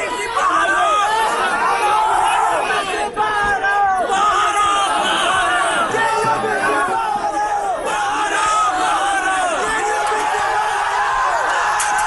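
A large crowd of protesting students gathered outside a house, a dense, continuous roar of shouting, whooping and overlapping voices that stays loud and steady throughout without letting up.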